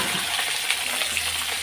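Potatoes sizzle and fry in a pan for a Bengali home-cooked chorchori, a steady close hiss with faint stirring and no talk.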